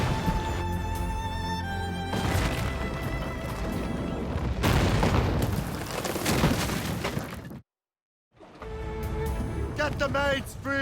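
Heavy cannon fire booms repeatedly in the naval combat of the video game Assassin's Creed: Rogue, loud rumbling blasts and crashes that fill most of the clip, broken by a brief silent gap before the din resumes.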